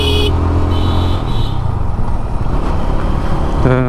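A GPX Demon GR165RR motorcycle rides through city streets, its engine droning loudly and steadily throughout amid road and traffic noise, with a brief higher whine near the start.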